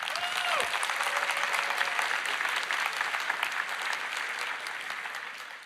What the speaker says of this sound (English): Today, yeah, you can applaud.